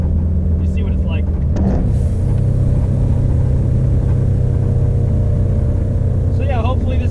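A turbocharged JDM WRX-swapped Subaru Impreza 2.5RS on all-season tires drives on winter roads. Its engine drones loud and close, with a pitch shift and burble partway through as it drops a gear.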